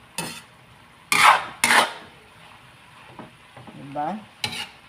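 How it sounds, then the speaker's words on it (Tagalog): Labong bamboo shoots and chopsuey vegetables are stirred in a frying pan, with sharp scraping strokes over a low sizzle and a brief spoken word in between. "Haluin na natin guys yung labong with gulay na sapsoy."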